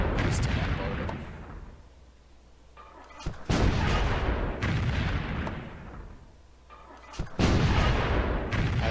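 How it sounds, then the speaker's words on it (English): Artillery bombardment from the video game Civilization III, with heavy booming blasts followed by long rumbling decays, repeating in a steady rhythm and loud throughout. "I am focusing my artillery fire a bit more on the units"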